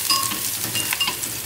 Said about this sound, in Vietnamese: Mình phi tỏi cho nó thơm nha các bạn.